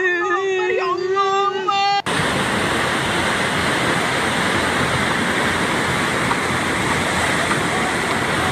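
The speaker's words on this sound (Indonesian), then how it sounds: "Luapan sungai Aek Garoga yang membawa material kayu menyapu ke permukiman warga." A flash-flooded river, the overflowing Aek Garoga, rushes loudly and continuously while carrying wood debris into a residential area; a brief voice is heard at the start before the roar takes over.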